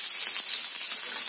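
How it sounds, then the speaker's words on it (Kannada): Green chillies, garlic, ginger, curry leaves and onion fry in hot oil for an aloo peanut saagu, giving a brief, steady, close hiss of sizzling. "ಎಣ್ಣೆ ಬಿಸಿ ಆದ ತಕ್ಷಣ ಹಸಿಮೆಣಸಿನಕಾಯಿ, ಹಾಗೆ ಬೆಳ್ಳುಳ್ಳಿ, ಶುಂಠಿ, ಕರಿಬೇವು, ಈರುಳ್ಳಿ ಎಲ್ಲ ಹಾಕಿ ಸ್ವಲ್ಪ ಫ್ರೈ ಮಾಡ್ಕೊಳ್ಳಿ"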